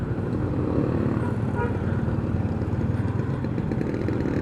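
A Yamaha Sniper 155 VVA motorcycle engine runs steadily nearby, a continuous throbbing mid-range drone with even rhythmic pulsing and no change in pace.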